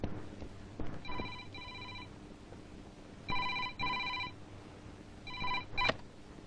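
A landline telephone rings in repeated double bursts, a bright electronic trill that comes in three separate pairs over a quiet room, with no talking.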